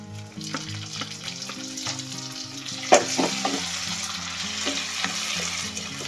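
Tomatoes frying in a pan with curry leaves and onion, a steady close sizzle broken by stirring scrapes and one sharp clatter partway through.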